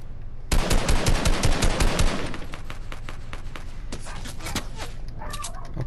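Rapid bursts of automatic gunfire in the Fortnite video game, loud and dense at first, then sparser single shots and short volleys continuing through the rest.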